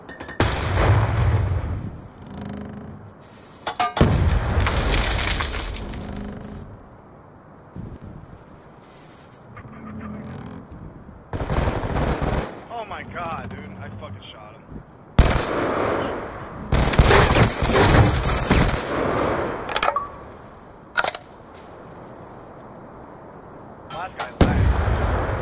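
Video game shootout with loud bursts of gunfire and heavy booming shots in clustered volleys, separated by quieter gaps, with players talking at times between the shots.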